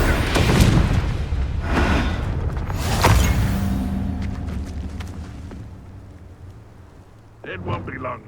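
A Confringo fire spell blasting rubble in Hogwarts Legacy, a loud booming burst with rumbling debris that fades away, followed by a short voice line at the end.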